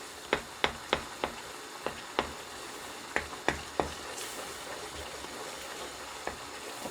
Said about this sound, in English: Then you keep stirring and stirring like you are cooking dry stew